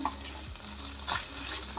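Leftover roti pieces with spices sizzle steadily in a hot pan while a utensil stirs and scrapes through them, with no one speaking.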